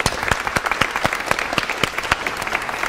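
An audience claps loudly and continuously, with individual hand claps standing out as a dense, irregular patter close by.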